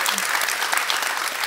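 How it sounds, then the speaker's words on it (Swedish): A crowd at a startup award event bursts into dense, steady applause, many hands clapping continuously and loudly throughout. "Stor applåd."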